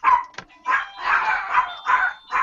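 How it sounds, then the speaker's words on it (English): Dogs bark in a string of loud, close, repeated bursts, about five or six sharp barks with brief gaps between them and no talking over them. "The dogs aren't happy about it."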